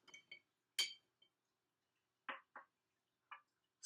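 Stirring an Old Fashioned with Angostura bitters in a glass: a handful of sharp, close clinks of spoon and ice against the glass, sparse and irregular in a quiet room.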